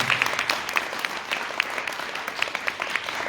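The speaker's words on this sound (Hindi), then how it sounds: "एक बार जोरदार तालियां" Audience applause at a business success meeting, a dense crowd clapping steadily with sharp individual claps standing out, loud and continuous throughout.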